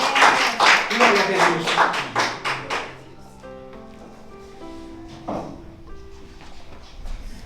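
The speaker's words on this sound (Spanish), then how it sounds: "Denle un fuerte aplauso al Señor." A church congregation claps in a quick burst of sharp, rhythmic hand strikes for about three seconds, then the clapping stops and a voice speaks over a faint, sustained tone.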